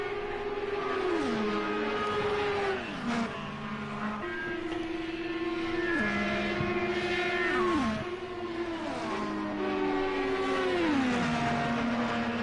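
Engines of race cars lapping an oval track in a racing video game, a steady droning whine with repeated pitch sweeps as cars shift and pass one another, loud and continuous with no talk.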